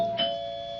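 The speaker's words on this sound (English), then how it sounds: "Who's that? Doorbell." A single electronic doorbell chime in a 1974 radio drama rings out clearly, then holds a sustained tone that fades slowly.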